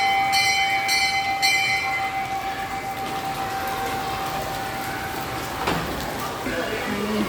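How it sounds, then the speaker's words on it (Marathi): A steady electric school bell rings continuously for several seconds over a constant hiss of heavy rain, then cuts off. "आता मावशी देतात घंटा संपली सुट्टी"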